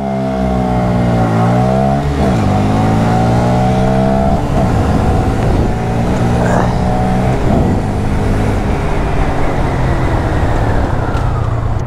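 Two 125cc motorcycles, a KTM Duke 125 and a Honda Grom MSX 125, drag race with loud, close engines revving hard and climbing in pitch through several gear shifts, then fading.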